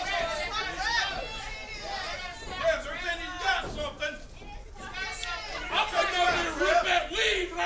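A wrestling crowd at an event in Winter Park jeers at a wrestler, a loud, dense roar of shouting voices and chatter that swells and dips throughout.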